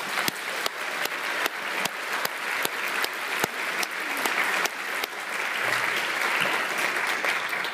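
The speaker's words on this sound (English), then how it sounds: "let's give Lindale a round of applause" Crowd applause at a TMEA All-Region band event honoring a host school, many hands clapping in a continuous roar with sharp individual claps popping through, sustained and fairly loud across the whole stretch.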